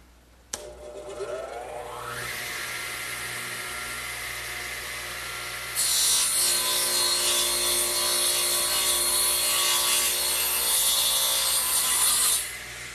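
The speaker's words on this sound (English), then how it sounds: "So I'll just slide it over and run the saw through." A saw spins up with a rising whine, then cuts through wood backed by a plywood fence, adding a loud, hissing rasp for several seconds before spinning down, close and without talk.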